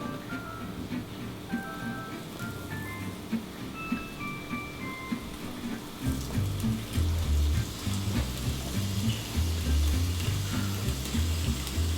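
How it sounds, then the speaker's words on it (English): Steady hiss of fish frying in hot oil that swells into louder, denser crackling sizzle midway as the fish hits the pan. "I'm sure you guys at home can hear that sizzle."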